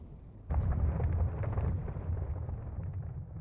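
A volcano explodes in a video game: one sudden deep blast, then a heavy low rumbling roar that rolls on and slowly eases, with no voices.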